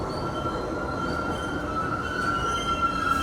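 NYC subway 1 line train pulling into the 191 Street station, with a steady squeal of metal wheels over a rumbling roll. Heard from the platform, fairly loud and without talk.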